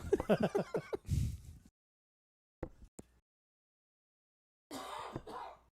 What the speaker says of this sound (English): I like how he still coughed right in our ears